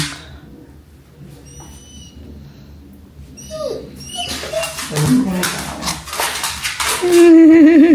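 A dog whimpers and lets out a few high yips and barks indoors, close and fairly loud, while people talk and other household sounds rise toward the end.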